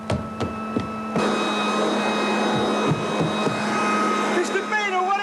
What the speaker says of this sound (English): that sounds like a vacuum cleaner